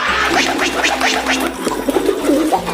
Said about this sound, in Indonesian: Wow, ada burung balam teman-teman.